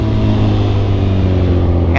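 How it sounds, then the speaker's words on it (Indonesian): A Kawasaki Z1000 Sugomi naked motorcycle engine runs steadily and loud up close, a deep droning hum with strong low harmonics that holds constant throughout. "Ini motor naked yang kenceng gila."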